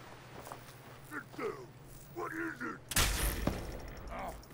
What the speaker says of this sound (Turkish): Bu dayıya gamma gun'ı basıyoruz abi.